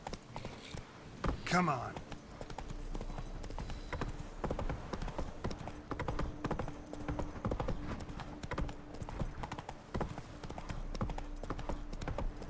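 Roach the horse trots in The Witcher 3, steady rhythmic clip-clopping hooves that carry on throughout, with a brief whinny early on and someone speaking a few words over it.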